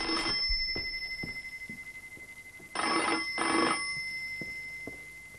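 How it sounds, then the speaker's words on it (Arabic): An old-style telephone bell rings indoors in a series of loud, rapid bursts separated by short pauses, with no talking. "تليفون علشانك"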